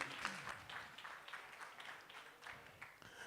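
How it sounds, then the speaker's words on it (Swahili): Faint, steady applause from an audience at a Safaricom Safire Connect event in Nairobi, a soft continuous patter of many hands lasting a few seconds. "makofi kwake tafadhali"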